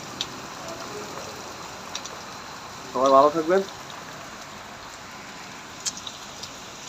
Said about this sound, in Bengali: আর বৃষ্টি হইতেছে, হরদম বৃষ্টি